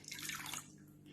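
Water squeezed out of a wet crochet piece during blocking, a soft close trickling and splashing lasting about a second, fading gently.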